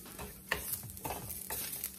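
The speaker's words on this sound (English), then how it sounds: "I'm gonna just scoot them around in the skillet for a little bit, just to get them a little bit brown and tender" Garlic and vegetables sizzling softly in a skillet as they are scooted around, with faint stirring scrapes.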